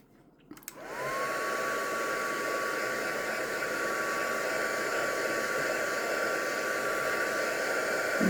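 A hair dryer blows steadily to dry a mixed-media artist trading card, switching on after a short click and running as a loud, even whoosh with a constant whine until the end.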